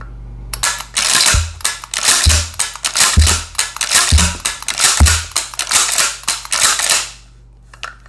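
A Mossberg 500 pump-action shotgun cycled over and over, each stroke a sharp, close mechanical clack about once a second, with no talking.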